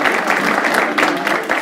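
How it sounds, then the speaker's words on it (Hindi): Audience applause at a comedy game show, steady dense clapping from a crowd, loud and continuous for a short burst. "तालियां"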